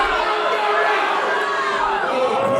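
Dense crowd noise from a wrestling show audience jeering wrestler Liam Cross, loud and continuous with overlapping shouts and voices blending into a steady roar.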